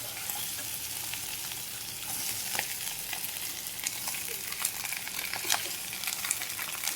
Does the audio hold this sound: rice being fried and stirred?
yes